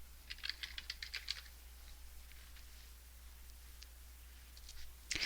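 Quick, faint clicking of keys on a computer keyboard as text is typed into a search box, a burst of taps followed by sparse keystrokes over a low steady hum.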